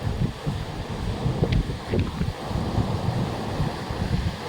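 Strong wind buffets the microphone in low, uneven gusts, with a faint wash like surf in the background.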